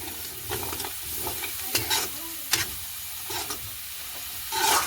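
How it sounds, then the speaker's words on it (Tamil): A spoon scrapes and stirs a dried anchovy puttu mixture with carrot in a hot pan, with steady sizzling and occasional sharp scraping strokes. "அதையும் சேர்த்து வடிவாக இருக்கா கிளறி விடுவோம்"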